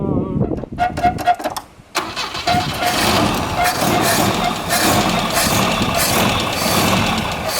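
A vintage Volvo car, unstarted for over fifteen years, cranks with a rapid stuttering starter whir, then catches and settles into a steady, loud, close engine run. Brief voices can be heard before the engine fires.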